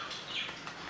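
Small parakeets give high, thin chirps and squawks, faint and close, with a few brief calls spread across a short moment and no talking.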